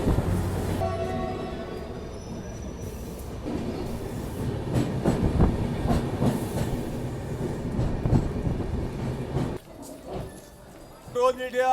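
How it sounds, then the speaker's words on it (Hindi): Train rolling into Moradabad Junction railway station just after crossing the Ramganga river, a steady loud rumble and clatter of wagons running throughout, easing near the end as it slows, with voices talking over it. "अपना अराइवल हो रहा है मुरादाबाद जंक्शन रेलवे स्टेशन पे"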